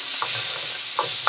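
Bell peppers are tossed into a hot wok for Thai drunken noodles, giving a steady sizzle with a few stirring scrapes and clatters at close range and no one talking.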